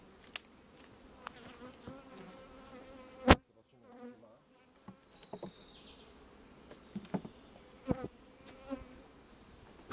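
Honeybees buzz inside and around a crowded two-box beehive, a soft continuous hum with individual bees droning past close by, broken by a few sharp knocks and handling clicks; no one speaks.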